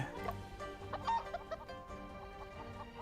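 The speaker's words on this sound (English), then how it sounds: "Cluck cluck." A chicken clucks in a murder mystery video game, a run of short, nasal clucks repeating over about three seconds against steady game music, with no talk.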